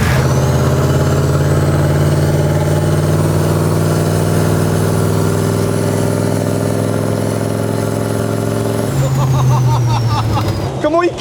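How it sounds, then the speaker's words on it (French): A Hummer's diesel engine fitted with a big turbo idles with a deep, steady rumble and a rising turbo whine, close and loud, before a shift in pitch and a brief clatter near the end; someone talks over it. "il est au ralenti quand même le moteur. Mais le turbo il charge là. Et tu l'entends."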